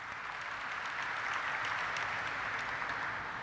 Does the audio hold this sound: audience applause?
yes